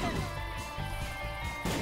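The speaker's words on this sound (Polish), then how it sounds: "Bardzo słabe są te bomby." Bombs go off in The Binding of Isaac: Rebirth, producing blunt crashing thuds amid the game's music, with a final sharp blast near the end while someone comments quietly.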